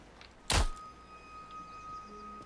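A bow looses an arrow in the video game Nightingale, a single sharp thunk followed by quiet game ambience and faint tones.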